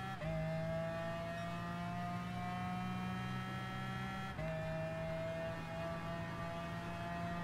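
A McLaren F1 GTR engine accelerating hard in Gran Turismo Sport: a loud, close, rising mechanical whine that dips briefly at a single gear change partway through, then climbs again.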